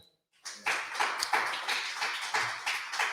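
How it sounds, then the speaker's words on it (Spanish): Audience applause for a woman being introduced at a Spanish-language presentation event, a dense, steady wash of many hands clapping that starts abruptly and continues at moderate level with no talk over it. "Un aplauso para ella"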